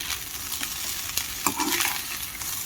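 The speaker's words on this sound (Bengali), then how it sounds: "সকাল সকালে ভাত ভাজা করছি" Leftover rice frying in a pan in a home kitchen in the morning, a steady sizzle broken by scraping stir strokes of a spatula, close and without talk.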